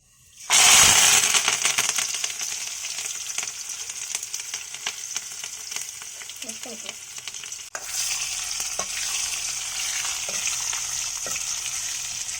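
Spices for tempering drop into hot oil and burst into a loud, crackling sizzle that holds steady, briefly cuts out, then resumes with scattered pops; nobody speaks.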